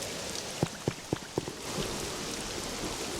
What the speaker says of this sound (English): Is this the first time it rains here?